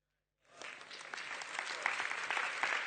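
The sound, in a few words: audience applause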